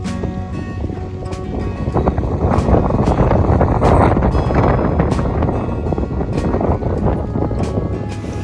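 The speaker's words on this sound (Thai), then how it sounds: "ลมแรงมากเลยนะคะ" Strong wind buffeting the microphone outdoors at a rice-field cafe, a loud continuous rumbling roar with gusts swelling and easing throughout.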